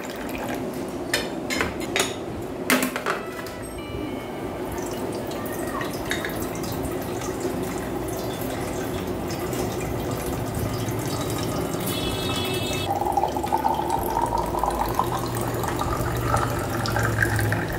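Water pours steadily into a container from a tap indoors, a close, continuous trickling stream with scattered drips and splashes that runs for the whole stretch.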